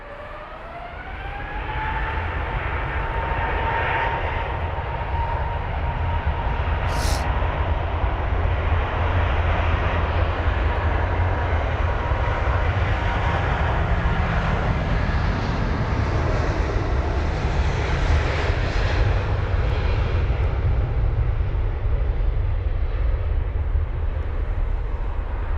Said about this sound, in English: That Virgin 350 with a very quick rotation